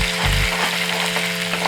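Ginger and green chili sauté in a pan for Kerala-style beef cutlets, a constant close sizzle under a steady low hum, with one brief thump near the start.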